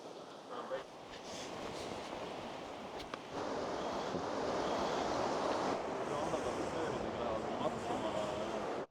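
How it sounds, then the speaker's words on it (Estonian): Steady wind buffets the microphone beside a creek in Yosemite, a broad continuous rush that grows louder after a few seconds, with a brief voice or two early on. "Tuuliseks läks?"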